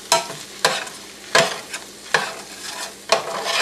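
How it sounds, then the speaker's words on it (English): Corn and bacon cooking in a frying pan sizzle steadily while a spoon stirs and scrapes at regular intervals, about five strokes, close up and with no talking. "So we're just going to keep cooking this until that corn gets done."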